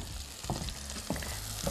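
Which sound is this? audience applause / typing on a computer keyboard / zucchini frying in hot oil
zucchini frying in hot oil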